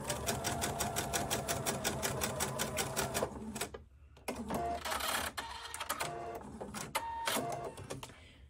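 A sewing machine stitching a short seam across fabric for a waist sash, running in a fast steady rhythm for a few seconds, pausing briefly, then resuming in shorter bursts, close and clear.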